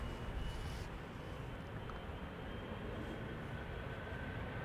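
A KLM Boeing 777-200 airliner departing Amsterdam Schiphol for San Francisco: a steady, distant jet roar that fills the whole stretch at an even level, with no voices.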